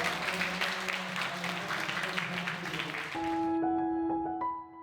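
Buddhist pilgrims from a Korean temple, at the close of a pilgrimage in Laos, applaud together in a dense burst of clapping lasting about three seconds, followed by sustained bell-like tones ringing out alone.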